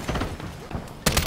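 Rapid video game gunfire from Modern Warfare 3 crackles in a busy exchange, jumping to a louder, closer burst of shots near the end.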